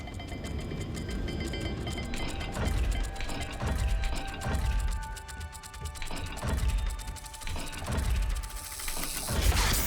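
Puzzle gate dial mechanism turning in Hogwarts Legacy, repeated ratcheting clicks and grinding gear sounds in rhythmic bursts, loud and close over a low ambient drone.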